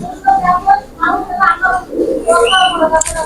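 A Pakistani pigeon of the Ustad Gogi Khan Hiralal line coos in soft, repeated throaty bursts close by, with someone talking over and between the calls.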